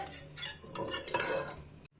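Cooked lentils being mashed in a pot for thili saaru, a few close scraping and clinking strokes of a utensil against metal, fairly quiet, ending abruptly.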